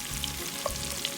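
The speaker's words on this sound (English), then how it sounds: "Let the onions fry." Onions frying in a pan for a Rajasthani laal murgh, a steady close sizzle with faint crackles and a few soft stirring clicks, no talking.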